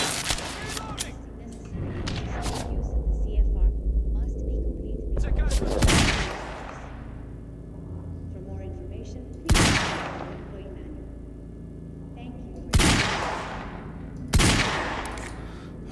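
Gunfire in a Remedy video game: a burst of rapid shots early on, then several separate loud, sharp reports with echoing tails spaced a few seconds apart, over low rumbling background.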